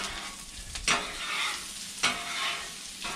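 Onions frying in a pan for a Philly cheesesteak, a steady soft sizzle with two sharp scraping stir strokes from a utensil, close and fairly quiet.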